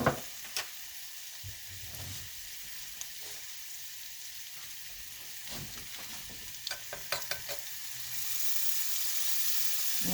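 Chicken seasoned with garlic powder sizzles steadily in a pan, a quiet continuous frying hiss with occasional stirring clicks and scrapes.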